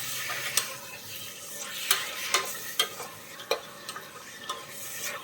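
Washed spinach is stirred into a beef curry (palak beef) in a pan: a series of distinct scraping strokes and clinks over a soft, steady sizzle, with no talking.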